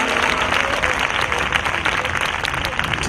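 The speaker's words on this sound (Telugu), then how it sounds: "మనస్ఫూర్తిగా యేసయ్యకి చప్పట్లు కొట్టి దేవుని కనపరచండి" Steady, dense clapping from a church congregation during a pastor's sermon in Ramagundam fills the whole stretch, loud and continuous, with crowd voices mixed in.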